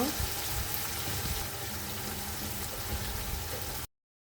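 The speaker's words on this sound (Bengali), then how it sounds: "হলুদের গুঁড়া দিয়ে মাছটা আরও কিছুক্ষণ ভেজে নিব" Prawns frying in a pan with salt and turmeric, a dense, even sizzle that runs steadily and close before cutting off abruptly.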